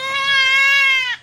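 A newborn baby goat lets out a single loud, drawn-out bleat up close, clear and alone.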